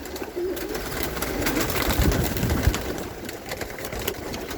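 Homing pigeons coo and shuffle in a loft full of racing birds, soft cooing calls repeating near the listener over low rustling, with a few dull thumps around the middle.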